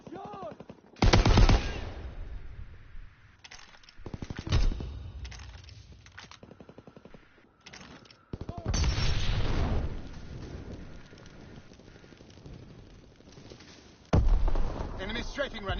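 Strafing run by enemy aircraft in Call of Duty WW2 on the Winter Siege map, heard as loud bursts of gunfire and explosive booms at irregular intervals, separated by quieter stretches of distant battle noise, with voices talking between bursts.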